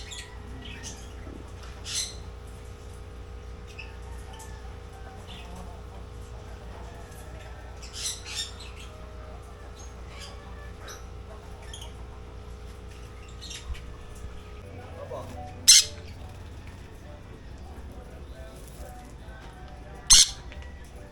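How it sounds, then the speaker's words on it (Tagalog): Two sharp, brief bird squawks stand out late in the clip, spaced a few seconds apart over a steady low hum and faint background chatter, aboard a RoRo ferry from Semirara Island, Caluya, Antique to Mindoro. "Ayan, oh, pares-pares yung mga ibon."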